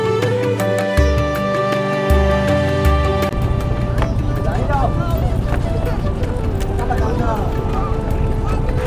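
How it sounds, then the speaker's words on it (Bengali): A trawler's engine drones steadily and loudly throughout, with water churning underneath, as the boat crosses a river toward Sagar without any voices. "এই ট্রলারে করে যদি আসেন তাহলে কিন্তু অনেক কম সময়ে এই নদীটা পেরিয়ে যাবেন"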